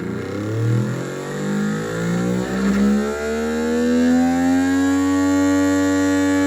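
A vintage Taycol toy boat electric motor is powered up to 12 volts and runs close and loud, its whine climbing in pitch and then holding at a high, steady scream.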